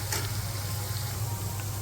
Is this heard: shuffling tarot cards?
no